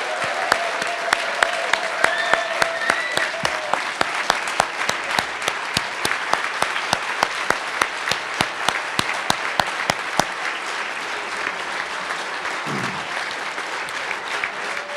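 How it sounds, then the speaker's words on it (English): An audience at the Cooperative Hall of Fame ceremony gives steady applause, with distinct individual claps standing out over the crowd before the clapping fades toward the end. "join me again in a round of applause."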